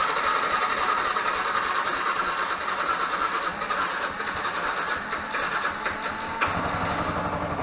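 A Yamaha R15 motorcycle engine runs steadily after fuel tank, fuel pump and injector cleaning, a loud, close, continuous idle that keeps an even rhythm throughout, with no talking.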